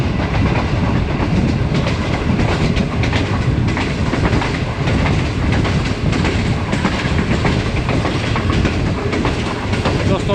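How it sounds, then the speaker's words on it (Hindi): The Awam Express, running a new rake, rushes through Pabbi railway station, its wheels drumming out a loud, continuous clickety-clack close by for the full stretch, with a broad roar of rolling stock. "दोस्तों ट्रेन हमारी पब्बी रेलवे स्टेशन से पास थ्रू हुई है और काफ़ी अच्छी रफ्तार से स्किप की है पब्बी रेलवे स्टेशन को।"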